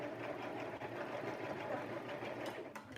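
A sewing machine stitching a wig runs steadily for about three seconds, a close, continuous motor whir with rapid needle chatter and no speech.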